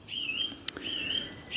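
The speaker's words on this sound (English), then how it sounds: "excuse the bird in the background, he's whistling away there" A bird chirps outdoors in long, sustained whistling calls, repeated three times, with a brief sharp click between them.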